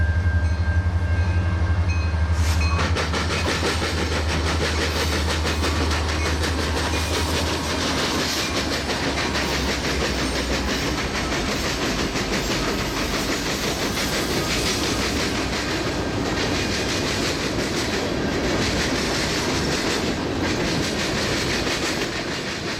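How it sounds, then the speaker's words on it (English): A train led by an Illinois Central SD70 locomotive rumbles past close by in Griffith, Indiana, wheels clattering steadily over the rails in a loud, continuous roar that lasts throughout. "trains sneak up on you pretty quickly, just like this one did"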